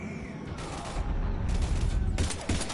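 Heavy gunfire in Mass Effect 3, with dense overlapping bursts of automatic shots rattling continuously at close range and swelling in waves throughout.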